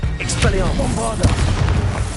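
A Bombarda explosion spell in Hogwarts Legacy lands as a deep boom under a voice calling out spell names, with the rumble sustained across the short stretch.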